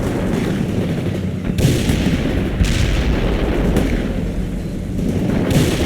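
Rocket launcher strikes hitting a target in a military video game mission against insurgents, heard as continuous heavy booming fire with several sharp blasts standing out over a dense rumbling battle din.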